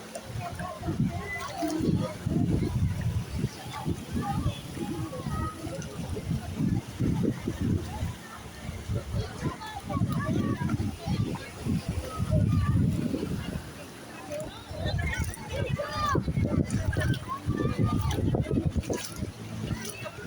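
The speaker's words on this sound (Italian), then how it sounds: "Guarda che belle onde." Gentle sea waves washing on a shallow beach at low tide at Rosolina Mare, soft sloshing and surging that rises and falls in slow swells, heard under someone talking.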